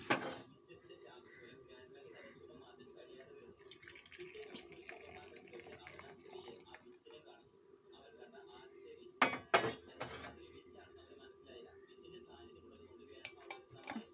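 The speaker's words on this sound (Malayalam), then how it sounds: "അപ്പം അത് തിളച്ചിട്ടുണ്ട് നമുക്ക് തീ ഓഫ് ചെയ്തിട്ട് അരിച്ചെടുക്കാം" Boiled tea is strained through a yellow strainer in a home kitchen after the gas is switched off. There are quiet clinks of metal utensils and a faint trickle, with a couple of sharper knocks near the middle.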